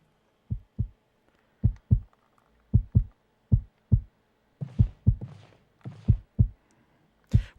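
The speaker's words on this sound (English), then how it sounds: "the heartbeat that you're hearing" A heartbeat thumps in a sci-fi horror video game, a deep, close, paired lub-dub pulse repeating at a steady slow rhythm, with a faint breathy rustle layered in partway through.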